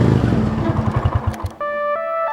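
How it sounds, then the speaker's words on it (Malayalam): A motorbike engine rumbles in pulsing bursts as it arrives, then cuts off, followed by sustained tonal electronic music effects. "തേപ്പുകാരൻ വരെ കൂളിംഗ് ക്ലാസും വെച്ച് ബൈക്കിൽ വരാൻ തുടങ്ങി"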